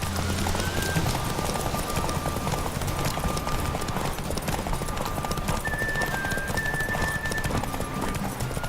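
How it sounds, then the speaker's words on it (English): A white horse in The Witcher 3 video game trots with a steady, close clip-clop of hooves, running continuously over a bed of game ambience and soft held musical tones. "It's a cool white horse."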